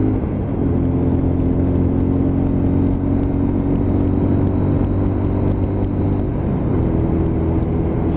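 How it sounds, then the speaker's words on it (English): Steady, loud engine drone from a Lexmoto LXR 125 motorcycle with a low exhaust rumble that swells slightly as it pulls, continuous throughout with no voices. "Love the sound of that exhaust as well."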